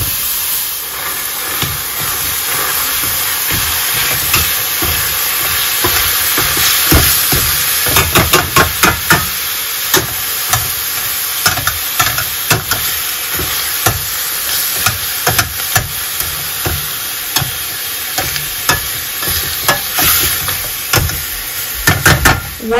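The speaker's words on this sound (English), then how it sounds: "over a medium high heat, I'm gonna add 1 pound of ground lamb" Ground lamb, one pound, sizzles in a pan over medium-high heat, a loud continuous hiss with scattered sharp pops and crackles growing more frequent toward the end.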